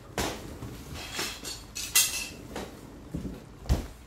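Kitchen handling while fetching a plate chilled in the freezer for testing sweet tomato jam: several light clinks and knocks of dishware spread over a few seconds, fairly close, with no talk.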